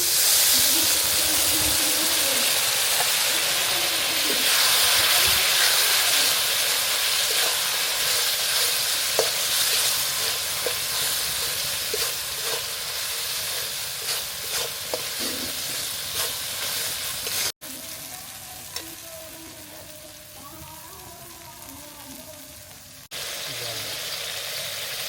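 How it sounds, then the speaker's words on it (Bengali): Water poured into hot oil while cooking a village-style spicy masala pork curry, giving a loud, continuous close sizzle and hiss that gradually eases, with occasional stirring scrapes. "তেলটা ছেড়ে দিলে এবার অল্প পরিমাণ জল দিয়ে দেবো।"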